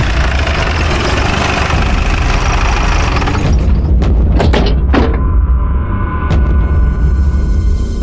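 A motorcycle engine idles with a steady, loud, close rumble, interrupted midway by a few dull thumps before settling back into its even running.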